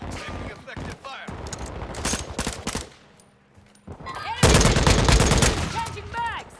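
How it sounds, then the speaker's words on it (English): Modern Warfare II gunfire rattles in loud bursts of automatic fire, breaks off briefly and then returns, while faint in-game voices call out beneath the shots. "Taking effective fire."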